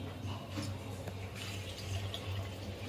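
Water pouring steadily onto rice in a pressure cooker, a soft continuous splashing flow with a low hum in the background.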